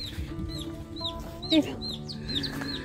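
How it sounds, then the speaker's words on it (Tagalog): Chicks cheep in short, high, repeated peeps over a low barnyard background, with a brief louder rustle in the middle and no clear talk. "May dalawang sisiw na."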